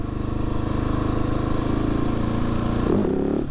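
A Husqvarna 701 S motorcycle engine thrums loudly and steadily up close with a rough pulsing beat, then briefly revs higher near the end as a wheelie is attempted.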